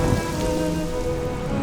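Rain pours steadily in a Bengali cartoon, a dense, even patter on surfaces, close and fairly loud, with no voices during the brief burst.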